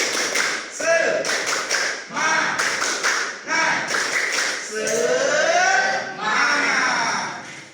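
Junior high students in a classroom perform the 'tepuk semangat' cheer: bursts of patterned group clapping alternate with loud chanted shouts from the whole class, in several rhythmic phrases.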